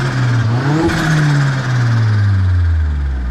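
Astra SRi Turbo engine revving hard, pitch sweeping up in a sharp blip then sliding slowly back down toward idle, loud and close with a gruff exhaust tone.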